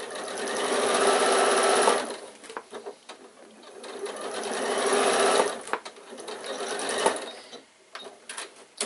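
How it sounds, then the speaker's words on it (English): A sewing machine stitches down the side of a fabric bag toward its bottom, a loud continuous whirring run that eases off, starts again and slows in spurts near the end. "continue sewing down to the bottom of the bag"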